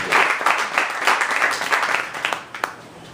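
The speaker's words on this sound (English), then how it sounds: "keep clapping" Audience applause fills an open mic spoken word event in New York City, a dense, steady clapping from a crowd that holds for a few seconds, close and fairly loud, thinning slightly toward the end.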